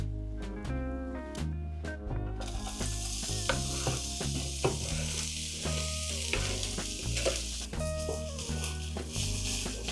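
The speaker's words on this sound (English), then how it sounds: "Now we need to cook the onion in the pan," Diced onion frying in lard in a pan gives off a steady, bright sizzle that starts a couple of seconds in and continues beneath rhythmic background music.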